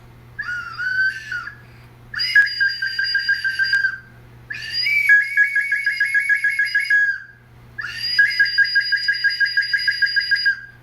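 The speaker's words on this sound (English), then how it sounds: "This is a peewit whistle." Peewit whistle calls ring out in four separate bursts, each a loud, clear rising note followed by a rapid trilling warble, with short silent gaps between them.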